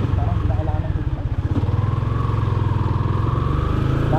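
A Yamaha Sniper 150 motorcycle engine runs with a steady, close, pulsing mechanical drone that holds throughout, slightly unsteady near the start.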